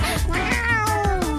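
A cartoonish cat, built from Lego blocks, lets out a loud, drawn-out meow with rising and falling pitch, heard alone and close up.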